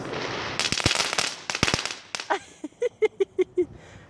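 A run of sharp firework bangs and crackles, first a dense cluster of loud cracks, then five or six evenly spaced popping bursts, all at close to mid distance with no talk.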